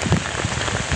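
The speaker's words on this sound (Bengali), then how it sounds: "বৃষ্টি হচ্ছে" Heavy rain falling on a surface outside under cloudy, windy skies, a dense continuous patter with a few louder drops, close and loud, no voices.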